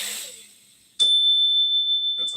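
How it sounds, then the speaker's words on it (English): A bell is struck once after a fading hiss, giving a sharp attack followed by a bright, pure tone that rings on steadily and slowly pulses as it sustains. "That's called a bell."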